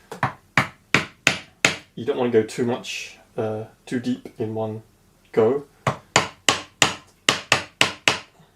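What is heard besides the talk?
hammer striking chisel chopping wood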